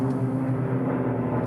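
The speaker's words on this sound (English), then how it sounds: "Well, not fighter jets, but army planes." Military transport planes flying overhead, a steady low droning engine rumble that holds evenly throughout, fairly close and continuous with no talking.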